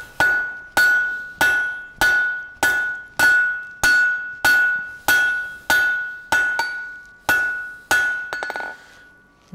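A blacksmith hammers steel into a tapered punch with about a dozen evenly spaced, ringing blows. Each strike is loud and close, and a bright metallic tone lingers before a few lighter taps finish.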